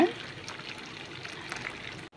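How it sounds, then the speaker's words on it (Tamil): Hot water is poured from a tumbler onto sago pearls for soaking, making a steady close splashing, gurgling stream for about two seconds that stops abruptly. "இப்போ வந்து சுடுதண்ணி வந்து ஒரு டம்ளர் ஆட் பண்ணிக்கோங்க"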